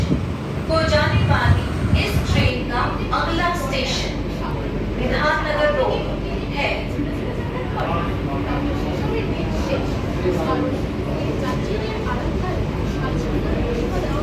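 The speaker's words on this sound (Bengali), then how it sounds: "শিয়ালদা স্টেশন থেকে আমাদের ট্রেন ডিপার্চার করে দিল" Kolkata's first AC local train pulling out of Sealdah station toward Ranaghat, a steady low rolling rumble beneath continuous nearby talking.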